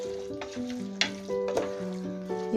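Mutton curry pieces frying in masala in a pan, with a faint sizzle broken by several sharp clinks and scrapes of a spoon stirring against the metal.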